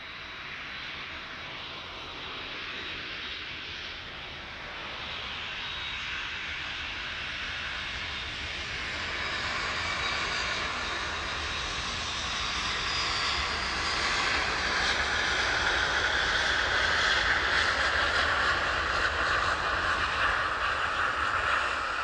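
A Boeing 757 jet on the runway at East Midlands Airport in the evening gives a broad roaring engine rumble that swells gradually louder over about twenty seconds, with no talk.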